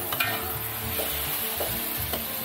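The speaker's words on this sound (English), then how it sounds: "we're currently now stirring, so we're gonna add the mutton here" Mutton stirred and fried in a pan for a festive varuval, with a loud, continuous close sizzle and repeated scraping stir strokes throughout.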